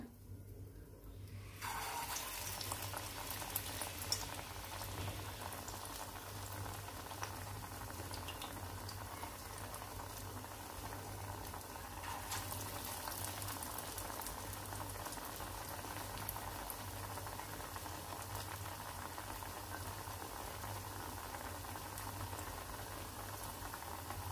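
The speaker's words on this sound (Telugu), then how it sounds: "ఆయిల్ కాగింది. ఇలా వడ చేసుకోవాలి." Vada frying in hot oil in a pan, a steady, dense bubbling sizzle that carries on without a break, close but fairly quiet, with no talking.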